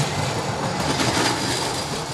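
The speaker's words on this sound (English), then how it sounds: "we might hear the sound of Metro Rail above us" Houston Metro Rail train passing overhead, heard from an underground tunnel beneath Main Street downtown: a steady, muffled low rumble with a broad hiss that holds throughout and swells slightly in the middle.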